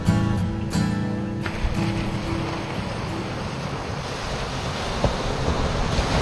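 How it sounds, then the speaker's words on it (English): Strong wind blowing over the ocean during drone fishing, a loud continuous roar of gusts buffeting the microphone over breaking surf, with no one talking. "Wind's picking up."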